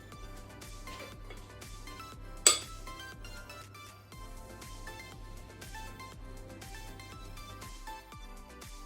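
Jaffa cake mixture is spooned into a sprayed mold, with soft repeated clinks and taps of a spoon against the mold and a single sharper knock, all fairly quiet.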